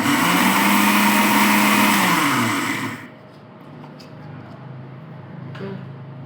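A kitchen mixer grinder whirs loudly to grind ingredients finer, running at full speed for about three seconds before it winds down and goes quiet. A few faint clicks follow in the near silence.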